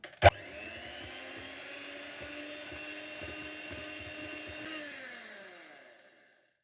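An electric mixer whips sour cream with powdered sugar, whirring steadily for several seconds after a sharp knock, its motor hum and whine winding down and fading at the end.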